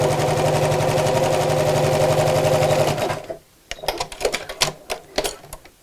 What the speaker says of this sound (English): Line up the edges, and then we're going to sew straight across here.